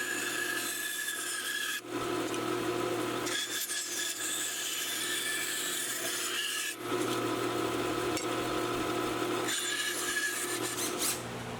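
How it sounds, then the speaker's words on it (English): Rasping, sawing strokes cut through the excess wood of a guitar headstock in a workshop, a steady run of rough rubbing broken by three short pauses, loud and close with no talking. "I went ahead and cut the excess wood from the headstock"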